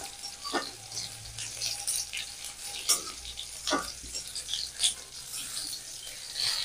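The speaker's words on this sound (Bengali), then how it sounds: "টমেটো কুচিটা একটু ভেজে নেব" Chopped tomato softening in a pan, frying with a steady hiss and a few louder stirring scrapes, no voices.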